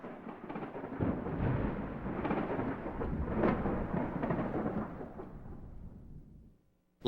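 A long, deep rumble of thunder from a thunderstorm rolls on for several seconds at steady strength, then fades out, with no voices.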